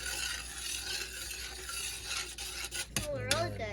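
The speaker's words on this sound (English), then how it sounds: "Stir that up good." Seasonings, smoked flavoring and onion powder, are stirred together in a bowl with a utensil, a steady soft scraping and clinking close by, ending in a few sharper clanks and a brief squeak.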